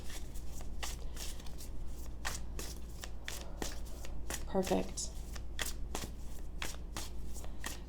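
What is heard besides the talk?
shuffling tarot cards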